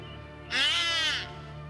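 A single short, harsh squawk from a parrot, loud and close, rising over a quiet background hum.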